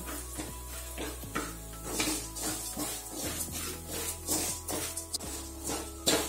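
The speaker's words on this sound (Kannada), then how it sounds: "ಇದು ಸಹ ಎಣ್ಣೆಯಲ್ಲಿ ಚೆನ್ನಾಗಿ ಫ್ರೈ ಆಗಬೇಕು" A teaspoon of raw rice fries in hot oil in a pan for a Savaji mutton curry, a soft sizzle under steady, rhythmic scraping and stirring of a spoon against the metal.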